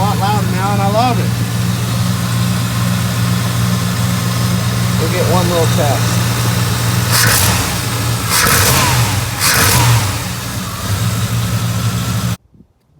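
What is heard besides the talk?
Chevy TBI truck engine idling and revving with Edelbrock air cleaner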